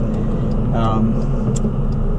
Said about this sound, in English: this is the traffic that we deal with here in San Francisco